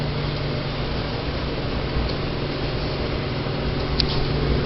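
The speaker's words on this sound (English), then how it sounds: "this is a working microwave" A working kitchen microwave oven runs with a steady, even hum and whir, its turntable spinning inside, the drone holding constant at moderate level with no talk over it.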